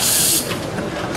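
Steam bursts from the steam wand of a Rocket Espresso Milano dual-boiler espresso machine, worked by its steam lever: a loud, bright hiss for the first moment that then drops to a softer, steadier airy rush.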